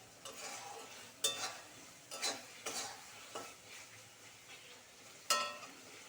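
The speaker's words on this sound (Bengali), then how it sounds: "এবারে আবারও সমস্ত কিছুকে খুব ভালো করে মিশিয়ে নিতে হবে এবং কষে নিতে হবে 2 মিনিট মতো" A spice mixture stirred and fried in a pan over low heat, with a soft steady sizzle and several sharp scrapes of a spoon against the pan, close up and with no voices.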